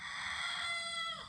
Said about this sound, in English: Baby rooster back there is learning how to crow.